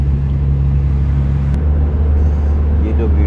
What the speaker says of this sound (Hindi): ये जो वीडियो हम अभी बना रहे हैं, गाड़ी के अंदर बैठ के बना रहे हैं, थोड़ी सी साउंड में डिस्टरबेंस भी हो सकती है